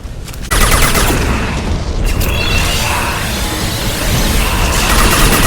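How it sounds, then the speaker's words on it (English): A high impact shot fired in the Mass Effect video game amid combat, a heavy blast opening into a dense, loud roar of gunfire and rumbling that continues steadily throughout. "Firing a high impact shot."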